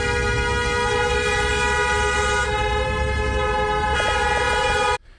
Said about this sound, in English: the protesters honking in support and stopping the flow of traffic